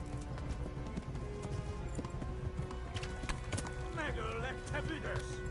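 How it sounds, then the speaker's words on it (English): Horse hooves cantering in the medieval role-playing game Kingdom Come: Deliverance, a rapid rhythmic clip-clop continuing throughout, with a brief whinny toward the end under game sounds. "We do need to keep the horse at a canter at least."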